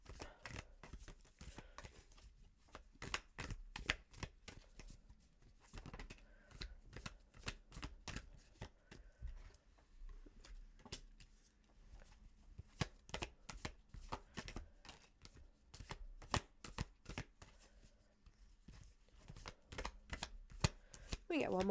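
A deck of tarot cards being shuffled close up, with a long run of quick, crisp riffling flicks and taps that continues steadily throughout, and faint talk underneath.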